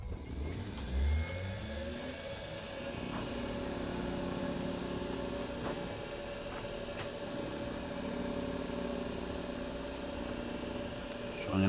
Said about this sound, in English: I'm going to turn the motor on